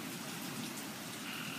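Rain falls outside at night as a steady, even hiss of drops with no let-up across the whole stretch.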